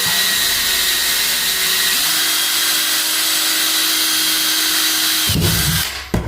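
A power drill drilling into a wall at a tub overflow plate whines steadily at close range for several seconds, then its pitch shifts and it cuts out with a brief clatter at the end.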